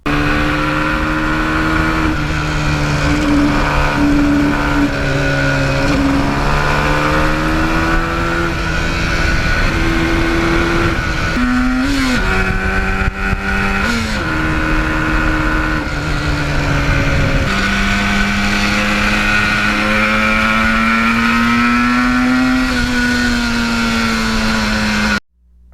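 A restored 1977 Yamaha RD400 two-stroke motorcycle runs loud and close, its buzzing engine note steady at idle with several rev blips and pitch swings, then cutting off abruptly at the end.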